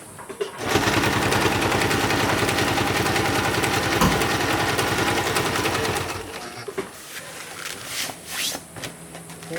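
An electric sewing machine stitches a UV sacrificial strip onto a genoa or jib sail, giving a steady rapid mechanical chatter for about six seconds, then stopping into quieter handling noises.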